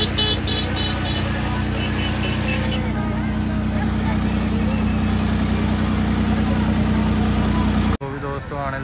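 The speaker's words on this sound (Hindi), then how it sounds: "वो भी दोस्तों आने लग रहा ट्रैक्टर" Tractor engine beside a temple site, a loud steady low drone with a droning tonal layer and some voices, ending in an abrupt cut to a different sound.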